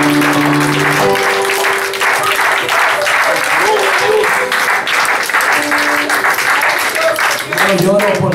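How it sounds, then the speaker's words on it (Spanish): A church congregation at a Spanish-language evangelical service applauds in steady, dense clapping that carries on through the stretch while a preacher keeps talking loudly over it. "Dar un aplauso a Cristo en esta hora."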